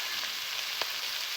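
Chicken offal and meat stir-fried in a pan with ginger and turmeric: a soft, steady sizzle with one brief clink or scrape partway through, fairly quiet and with no voices.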